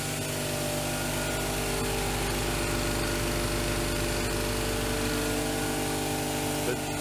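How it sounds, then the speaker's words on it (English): An air compressor feeding a refrigerated air dryer for a CNC plasma table drones steadily and loudly, a constant motor hum with a rough pulsing texture throughout, alone with no talking. "It started up the air compressor again."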